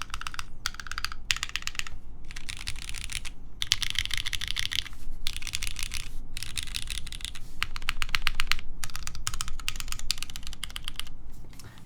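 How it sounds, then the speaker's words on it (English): Clacky keys on a Kei R2 mechanical keyboard being typed on in rapid bursts, dense close clicking separated by short pauses, loud and alone with no voices. "This backspace, very clacky."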